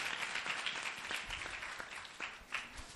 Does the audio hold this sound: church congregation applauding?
yes